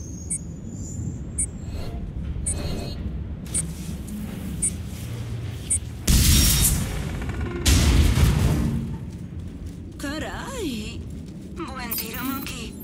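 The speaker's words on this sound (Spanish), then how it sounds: "Lanzaré una carga explosiva, pero tendrás que detonarla con un disparo." Explosive charge detonating in the video game Enslaved: Odyssey to the West, a loud booming blast with crackling debris after a string of sharp gunshot-like pops, set against a steady game soundscape.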